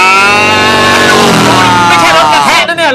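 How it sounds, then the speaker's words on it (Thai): A small racing kart fitted with a turbocharged Kubota engine, at a kart race in Pathum Thani, gives a loud, steady, tonal engine drone. The pitch shifts a little as it revs, with voices faintly mixed in. "เครื่องยนต์คูโบต้ามีเทอร์โบด้วยนะ"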